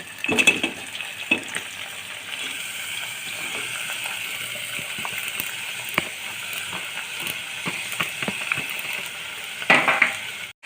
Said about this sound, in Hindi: अब मैं इसमें जो है आलू और जो मैंने बंद गोभी डाली काटी थी वो मैं इसमें डालूँगी